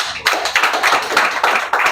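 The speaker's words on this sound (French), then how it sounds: "Applaudissez." Audience applause at a human rights league forum on combating violence, a dense patter of hand claps swelling in several uneven waves across a couple of seconds, fairly close and with no talking.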